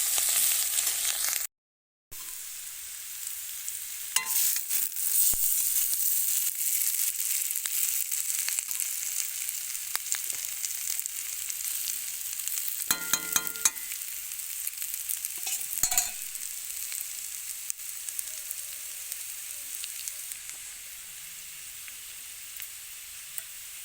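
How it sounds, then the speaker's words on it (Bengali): Ginger and chili powder sautéing in a pan for a rohu fish and potato curry, a steady close sizzle with occasional scrapes and clinks of a spoon stirring, no voices. "এরপরে আমি দেব লঙ্কার গুঁড়ো লঙ্কার গুঁড়োটা দিয়ে আবারও ভালো করে কষিয়ে নিতে হবে"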